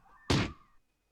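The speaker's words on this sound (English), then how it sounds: "Yeah, let's punch the wall." A single dull thunk of a fist punching a wall in the video game Spirit Hunter, one short muffled impact close up, then quiet.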